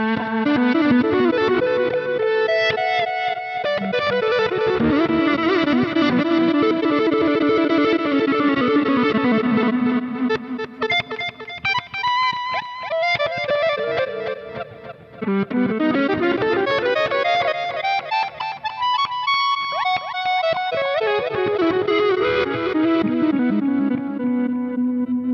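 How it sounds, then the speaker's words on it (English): Electric guitar with warm, crunchy overdrive plays sustained chords and lead lines, loud and continuous, with gritty bends and slides. "I can actually just dial in the blues driver sound"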